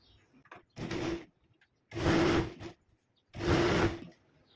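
A sewing machine stitches a kurti in three separate runs, each a dense, even whir lasting about a second, with short quiet pauses between them.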